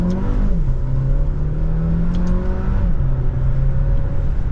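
A 2024 Dodge Hornet R/T Plus Blacktop EAWD pulls away hard with a loud, close engine drone that climbs in pitch, drops at each of two gear changes, and then climbs again.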